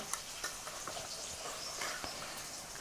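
Sago pearls (sabudana) being stirred in a pan: soft, close scraping and light ticking of the dry pearls, with small irregular clicks over a gentle rustle.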